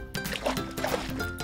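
Soil being whisked into water for a DIY fidget toy gives a short, close wet sloshing and dripping sound, steady and fairly loud, with a faint voice in the background.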